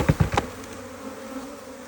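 Honey bees buzz around a hive, a close, fluttering hum with a few quick passes near the start before fading into a fainter, steady drone.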